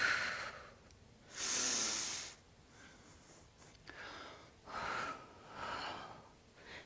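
Deep, audible breathing in a slow yoga flow, a few long hissing inhales and exhales spaced over several seconds, close and fairly quiet, no speech.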